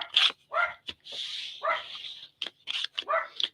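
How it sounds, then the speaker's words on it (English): A dog barks in short, sharp bursts separated by brief pauses, with a few whimpering yips mixed in, fairly close and alone. "the dog's going to bark now because he hears the mailman"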